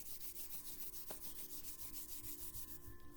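Hands rubbing together in a quiet room, a soft close rhythmic swishing of skin on skin repeating steadily, faint and alone.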